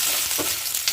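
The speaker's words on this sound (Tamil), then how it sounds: "அந்த டைம்ல நீங்க வந்து வெங்காயமும் கேப்சிகமையும் போட்டுருங்க." Onion and capsicum fry with lentils in a pan for chutney, a loud continuous close sizzle with faint stirring underneath, heard alone without voices.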